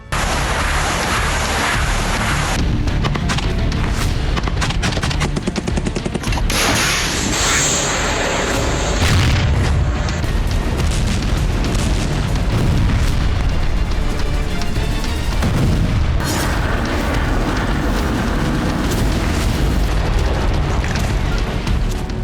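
Heavy explosions from Russian military strikes on Avdiivka, eastern Ukraine, in war footage: loud, continuous booming and blasts with rumbling bursts throughout, no speech.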